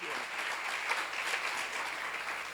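A congregation at a church seminar bursts into applause, a thick, continuous wash of many hands clapping together, steady and fairly quiet throughout with no voices over it.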